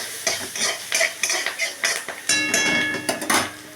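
Spices and turmeric being stirred in a hot pan, with rapid rhythmic scraping and clinking of a metal spoon against the pan over a continuous sizzle, close and fairly loud.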